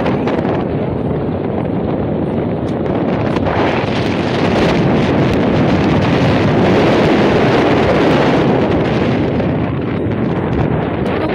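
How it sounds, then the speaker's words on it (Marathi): Strong coastal wind at Jaitapur in Ratnagiri roars and buffets the microphone without letup, a loud, steady rumbling rush that fills the whole stretch with no voices. "हवा एवढी आहे की आवाज तुम्हाला काही येणार नाही."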